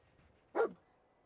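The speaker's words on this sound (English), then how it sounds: "Dog found something. Good dog." A dog in the video game Fallout 4 gives a single short, close bark, with faint background ambience before and after.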